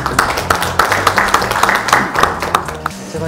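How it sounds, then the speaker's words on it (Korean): Applause at a political party debate forum, a short stretch of dense clapping heard close and loud, with some voice-like sound beneath it. "큰 박수 부탁드립니다."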